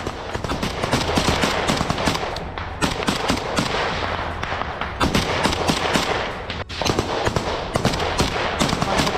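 Ground combat in Jabalia, Gaza brings dense bursts of automatic gunfire and sharp shots crackling almost continuously, loud and close, with only brief gaps between volleys.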